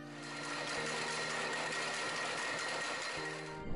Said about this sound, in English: That's the braiding machine.